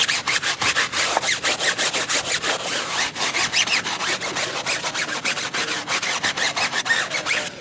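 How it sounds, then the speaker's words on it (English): A stiff brush scrubs a tire coated in citrus degreaser with quick, rhythmic back-and-forth strokes. The rasping is close and steady, with no voices. "Let me go in here and lightly agitate the tire."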